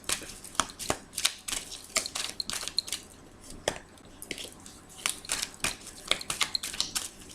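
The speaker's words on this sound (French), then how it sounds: "on va aller remettre quelques cartes." Tarot cards are shuffled close by in a steady run of crisp riffling slaps and flutters, fairly quiet, continuing for several seconds with no talk over them.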